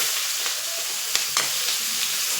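Chopped onions sizzle and crackle in hot oil with mustard seeds, cumin and green chilies for a drumstick and egg curry, a dense, close frying hiss with a couple of soft stirring knocks.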